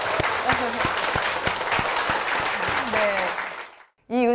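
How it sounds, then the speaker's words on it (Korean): Big, full applause from a church congregation fills the room, dense and sustained with some sharper claps standing out, before breaking off abruptly into a short sung or spoken voice. "큰 박수 부탁드립니다."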